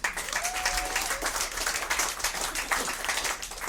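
Comedy club audience giving a round of applause at a stand-up special, a steady wash of clapping from many people with a brief cheer or whistle early on.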